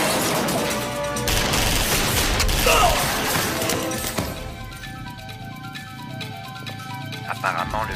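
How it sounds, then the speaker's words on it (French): A loud, dense volley of gunfire fills the first half, then gives way to scattered mechanical clanks and sharper isolated shots. "On dirait une fusillade."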